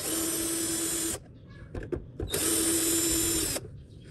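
A power drill unscrews two screws from a washing machine during cleaning, giving two loud, steady whirring bursts of about a second each, separated by brief handling clatter.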